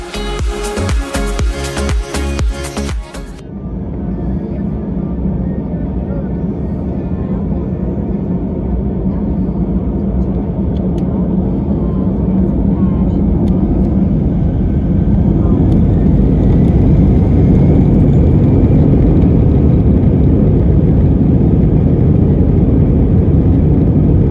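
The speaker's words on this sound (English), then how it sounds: "now we can listen to and take a look at the takeoff of our plane" Loud, steady jet engine roar building into a powerful rumble as an Airbus A320 airliner accelerates down the runway at Barcelona, heard from inside the cabin after a brief burst of noise.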